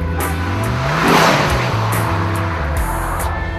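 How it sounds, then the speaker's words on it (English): The engine of a Lexus IS-F performance sedan revs hard and climbs through several rising pitches with gear changes, loud and close and with no talk over it. "Leading the Lexus assault on the performance sedan sector is the IS-F, a mean if not so lean fighting machine"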